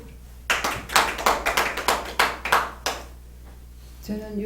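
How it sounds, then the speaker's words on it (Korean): Brief burst of applause from a church congregation after a spoken testimony, roughly a dozen loud claps in quick rhythm over about two and a half seconds, fading out before a voice resumes. "박수."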